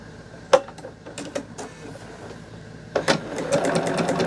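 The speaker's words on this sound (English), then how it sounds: "I'm just going to be sewing" A home sewing machine stitches quilting fabric in short, faint bursts of rapid mechanical clatter separated by quieter pauses, with clicks at the start and end of each run.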